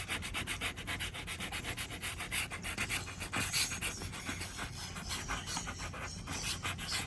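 A SIM card scrapes dried glue residue off IKEA furniture, producing continuous rapid rough rubbing strokes, close and steady throughout with no talking.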